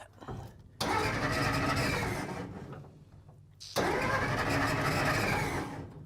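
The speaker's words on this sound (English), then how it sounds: "Can you push the clutch in and start it, or will it still do that?" An old car engine that sat unused for 30 years is started twice: each time a loud crank catches into a rough, roaring run that holds for a few seconds before dropping away, with brief quieter gaps in between.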